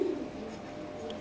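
A female racer pigeon cooing at a pigeon farm, a short low throaty coo near the start, then quiet room hiss with faint background noise.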